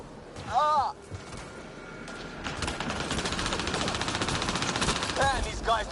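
Rapid automatic gunfire in Mass Effect Andromeda crackles steadily through the middle of the clip, a dense, continuous stream of shots, with shouted voices breaking in near the start and end.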